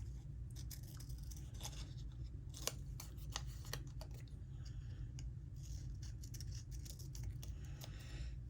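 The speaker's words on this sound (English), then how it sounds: "I may even trim a little bit extra of this off." Scissors snip through paper being trimmed for a collage, with a string of sharp, brief cuts, some in quick pairs, standing out over a steady low hum in a quiet room.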